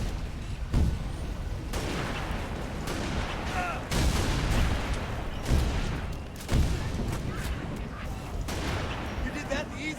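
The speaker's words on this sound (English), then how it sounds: "They're shooting at me." Video game gunfire aimed at the player crackles in repeated bursts and sharp booming shots, some close and punchy, others more distant, over a constant rumble with voices nearby.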